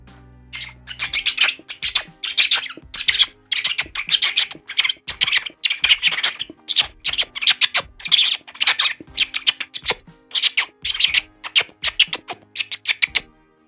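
Rapid, bright chirping and tweeting in a steady stream of short bursts, like a group imitating birds together, loud and close throughout.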